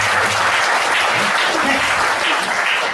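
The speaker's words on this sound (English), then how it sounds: "can you please give a warm applause?" Audience at a product demonstration giving a warm round of applause, dense continuous clapping at a steady level throughout the three seconds, close and full with no speech over it.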